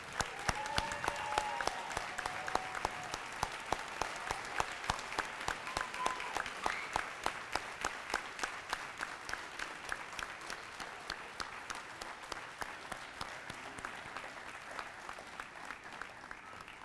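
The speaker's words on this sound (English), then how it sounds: "let's give this inaugural class of 2025 one last round of applause" A gym audience at a Southern Nash Athletic Hall of Fame ceremony claps for the inaugural class, with sustained even applause of many hands lasting throughout, heard from some distance.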